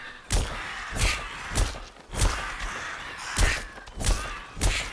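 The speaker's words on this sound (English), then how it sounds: "Attacked by crows!" Crows caw and attack in the game Atomfall. Harsh caws come in repeated bursts about once a second, loud and close, with faint thumps underneath.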